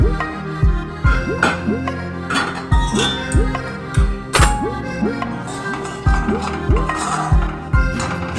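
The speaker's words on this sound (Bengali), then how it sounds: "নিয়ে উষ্ণ গরম জল আমি দিয়ে নাড়তে থাকবো।" A spoon stirs rice flour mixed with salt and warm water in a bowl while preparing chusir payesh, giving a steady run of close, rhythmic clinks and knocks against the bowl with a constant background hum.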